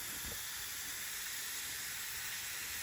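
Steam hisses steadily from a can cooker on a stove as a faint, even, continuous rush with no talking.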